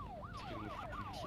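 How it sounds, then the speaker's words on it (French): A police car siren in the video game Broke Protocol wails in quick repeated up-and-down sweeps, faint and somewhat distant, over a low rumbling background. "Coupez les sirènes."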